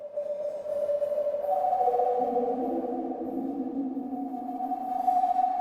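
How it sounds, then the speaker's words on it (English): Synthesized tones from a Nord Drum 3P drum synth with sample reduction, sliding and sustaining with a gritty, glitchy digital texture, layered pitches shifting slowly, moderately quiet and without voices. "Let's maybe try the sample reduction."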